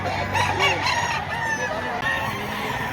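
Chickens cluck and a rooster crows close by amid the busy bustle of a poultry market, the calls overlapping steadily over a dense crowd murmur.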